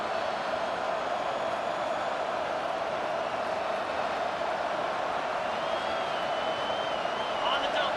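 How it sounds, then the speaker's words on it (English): A stadium crowd in College Football 25 roars as a constant, loud wash of noise, with a commentator talking over it. "It is getting loud as this crowd tries to help its defense."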